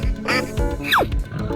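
A duck quacks several times in quick succession, loud and close, with a sharp nasal call and a falling squawk in the middle, amid an escape-room challenge game.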